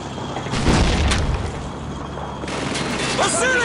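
In a Call of Duty 2 World War II battle, a heavy grenade explosion booms amid bursts of gunfire, with a dense, loud rumble throughout and shouting voices mixed into the fighting.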